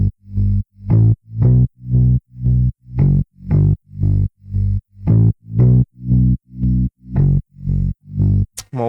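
Deep sub bass synth from a Flex preset, pumping in steady, evenly spaced notes with sidechain-like gaps between each hit, loud and alone, ending with a quick rising sweep.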